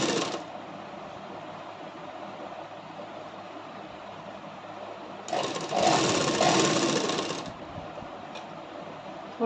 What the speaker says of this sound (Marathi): आता मी बाही शिवून घेत आहे